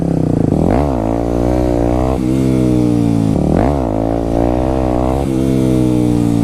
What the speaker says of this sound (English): The engine was kind of fighting the rear brake.